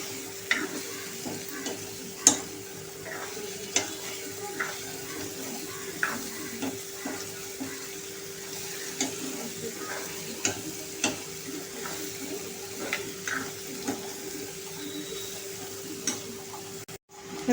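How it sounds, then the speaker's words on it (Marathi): Sprouted moong beans sautéed with spices in a pan, giving a steady close sizzle and frying crackle broken by regular scraping stir strokes and occasional sharp ticks of the spoon against the pan. "आता हे छान आपण परतून घेऊया"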